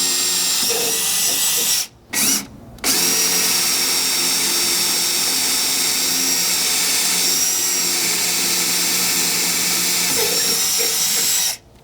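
A power drill whines steadily at high speed while boring pilot holes into a vehicle's inner fender during a bumper install, loud and close, pausing briefly twice near the start before running on without talk.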